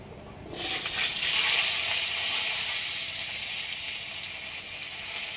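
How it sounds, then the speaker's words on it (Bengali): Potatoes drop into hot oil and burst into a bright, steady sizzle as they fry lightly, the hiss swelling fast and then settling into an even, slowly easing crackle with no talk. "তেলের মধ্যে আলুগুলো একটু হালকা করে ভেজে নেব"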